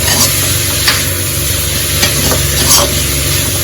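Grated cabbage for momo filling fries in a pan, giving a constant close-up sizzle with occasional stirring scrapes, loud and steady, with no talking.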